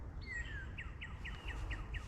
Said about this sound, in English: beautiful bird song in the background.